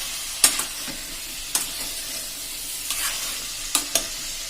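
Grated carrot halwa with saffron gets stirred in a pot, with soft frying hiss broken by a handful of sharp scraping spoon strokes spaced irregularly, close and moderately loud.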